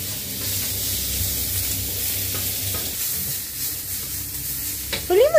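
White onion frying and sizzling in a pan while being stirred for sisig, a steady close hiss with faint stirring scrapes and a brief louder clatter near the end.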